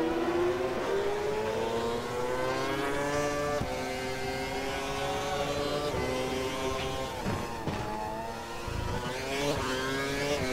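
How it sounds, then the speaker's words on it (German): An F1 car's engine in the F1 2012 racing game is revved repeatedly, a loud buzzing whine that rises and falls with short dips between revs, and no one speaks. "Mal den Motor hochdrehen."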